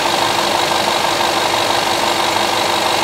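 A Land Rover engine idles steadily during an alternator load test, a loud, even mechanical drone with a faint knocking texture, close and continuous with no voices.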